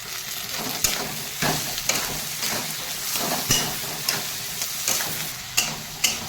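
Onion and tomato fry in a pan with turmeric, a steady close sizzle broken by regular scraping stirs of a spatula, no voices over it.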